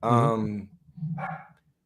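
A dog barks loudly at close range, a sharp bark followed by a shorter, quieter yelp, with no other sound in between.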